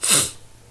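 A man gives a single sharp, breathy sneeze, close and loud, that fades quickly into a quiet tail.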